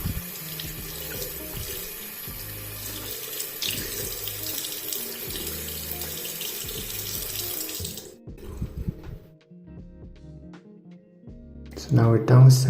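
Ice-cold tap water runs from a faucet over a Barbie doll's hair, a loud steady splashing stream for about eight seconds that then cuts off, leaving quieter drips and handling before a brief louder clatter at the end.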